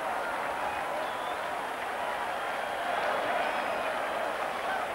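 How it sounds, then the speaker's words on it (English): Rugby crowd roaring as fans invade the pitch at a 1994 match against Waikato, a steady broad wash of cheering and clapping that holds evenly loud throughout. "the crowd is invading the pitch"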